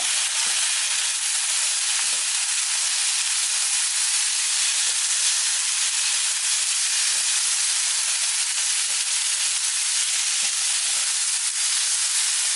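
Potatoes frying over high heat in a pan for a home-style Korean stir-fried potato dish, giving a steady, loud, unbroken hiss that runs throughout, close and without talk.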